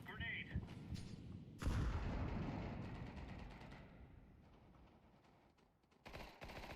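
A grenade explodes during a CS2 match with a sudden loud boom partway through, followed by a long rumbling decay, and another burst of gunfire near the end. Voices speak over the game audio.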